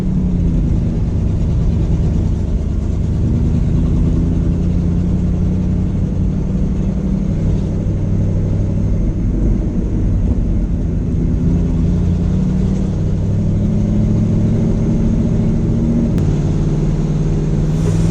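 An old, abandoned Ford F100 truck engine drones loud and close throughout, a steady low rumble heard from inside the cab while driving, with no talk over it.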